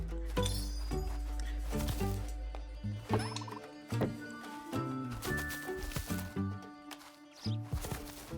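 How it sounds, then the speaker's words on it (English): Glitch bird from the video game The Plucky Squire calling in repeated gobbling, turkey-like bursts over a busy musical game soundtrack, moderately loud throughout. "You found a lost glitch bird."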